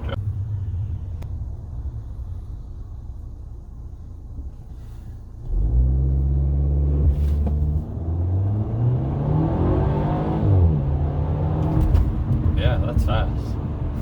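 A 2009 Audi A4 2.0T Quattro accelerating at full throttle from inside the cabin, a low engine drone that swells into a loud rising pull as boost arrives, with a person talking over it.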